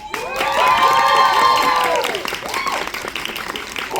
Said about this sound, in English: Please, a round of applause for director Kaori Miura.